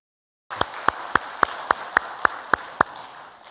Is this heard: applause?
yes